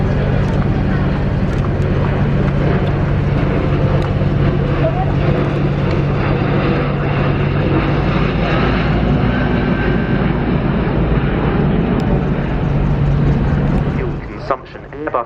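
An Airbus A350 airliner makes a low flying pass at the Farnborough air show, a loud, sustained jet roar that fills the whole stretch and fades near the end, with a voice likely talking underneath.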